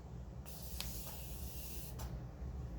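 Makeup setting mist sprayed from a spray bottle in a few short bursts, a soft hiss that rises and fades over steady background noise, with no talking.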